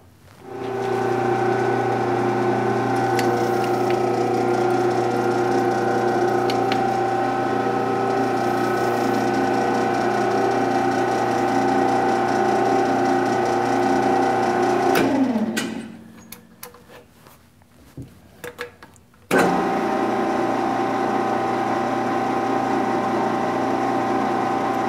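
A metal lathe drills into a steel wheel arbor for a toolpost grinder, giving a steady, close motor hum with a whining tone. It drops to near quiet with a few brief clatters, then starts up again.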